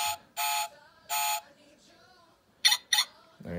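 A car alarm on a 1/32-scale diecast Honda Civic Type R model toy chirps in short, sharp electronic bursts: two long beeps, then two quick ones, up close with quiet gaps between.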